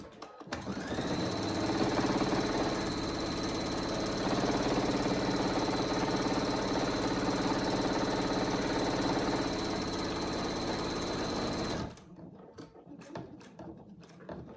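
A sewing machine runs at a steady, fast hum for about twelve seconds while stitching around a small hanging hammock for an animal cage, then stops, leaving a few faint clicks and handling noises.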